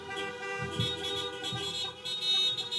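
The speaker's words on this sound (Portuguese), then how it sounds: "Pode buzinar aí, você dá um amém." Car horns blare in sustained, overlapping tones from vehicles parked at an outdoor drive-in church service, a loud, steady honking chorus with slight swells and no talk over it.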